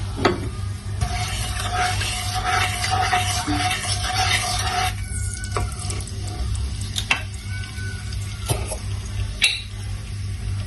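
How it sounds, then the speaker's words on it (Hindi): Cumin seeds frying in oil in a pan for crispy fried okra, a steady close sizzle with occasional stirring scrapes, continuous throughout and with no talking. "ये ज़ीरा थोड़ा सा ब्राउन हो जाएगा"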